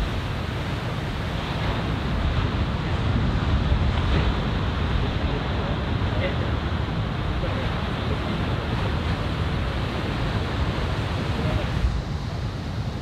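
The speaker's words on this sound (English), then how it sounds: "it's just super bumpy out there, like, there's a wave" Ocean waves and surf at Steamer Lane, Santa Cruz, a steady broadband roar with heavy wind buffeting the microphone, continuous and close throughout with no clear breaks between swells.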